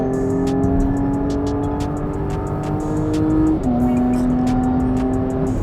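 A Porsche Cayenne S E-Hybrid in sport plus mode revs hard under way, its engine note climbing steadily, dropping sharply at a gear change, then climbing again, loud and close with a strong rhythmic growl.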